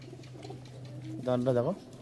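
Pigeons coo in a loft of Bengali fancy flying pigeons, a low rolling call rising and swelling near the end, close and fairly loud, with a voice talking over the start.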